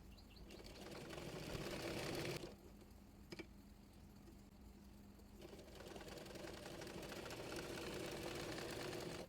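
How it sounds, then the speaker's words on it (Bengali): A sewing machine runs a straight stitch on a kameez, a steady fast whirring hum that pauses briefly mid-clip before starting up again, fairly quiet and alone. "চাপ সেলাই দিয়ে নেব"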